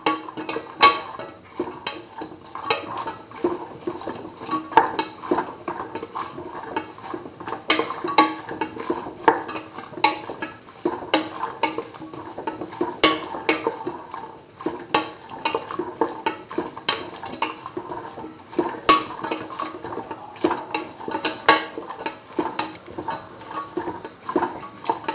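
A spoon stirs salt into a mashed potato and chickpea mixture in a bowl, giving soft, irregular scraping and light clinks that repeat steadily and close by, with no talk.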